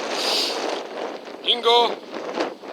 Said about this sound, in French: il y a du vent, ça souffle énormément les amis.